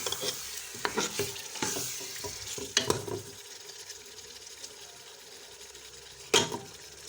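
Beef sizzles and fries in masala with garlic, ginger and onion in a pan while a utensil scrapes and stirs in bursts, with a sharp clatter near the end.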